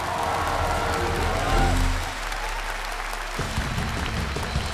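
A large audience at a televised Masked Singer China annual gala applauds to send off a singer. The applause is loud and dense, then eases after about two seconds into a lighter crowd clatter, with voices heard over it.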